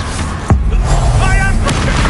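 A Confringo spell explosion from the video game Hogwarts Legacy, a single heavy boom with a low rumbling tail amid game effects and a voice talking.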